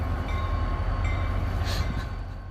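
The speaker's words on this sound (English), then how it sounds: "a slowly approaching train still posed serious danger at that distance" A train draws slowly toward a railroad crossing in Massachusetts, giving a low, steady rumble with faint tonal squeals and a brief brighter hiss, heard from a moderate distance.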